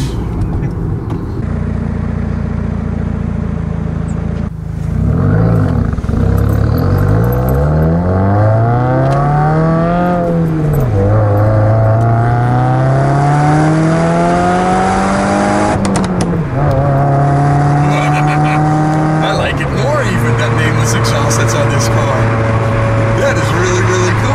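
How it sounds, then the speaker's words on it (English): A 2015 Subaru WRX with a twin-scroll turbo and equal length headers sends out a loud, close exhaust note while driving, rising and falling as it runs up through the gears with long revving sweeps. "And also a twin scroll turbo, which kind of explains the exhaust note that you have probably already heard."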